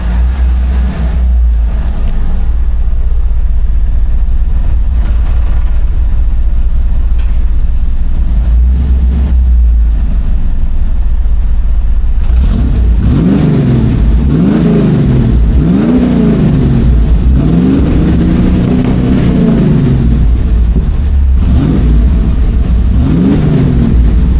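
A 1982 Ford F-150 pickup engine with a modified exhaust idles loudly, then revs up several times in rising and falling surges.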